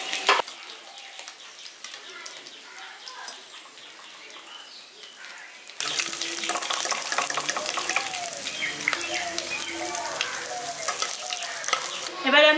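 Boiled, unpeeled potatoes fry in hot oil for a village-style potato curry, a quiet sizzle at first that swells into a louder, steady crackle as they are stirred and lifted from the pan, with no talking.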